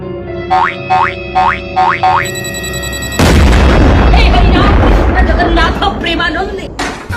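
Four springy boing-like tones, then a loud Diwali firecracker bomb blast bursts out and crackles on with a roaring, noisy tail.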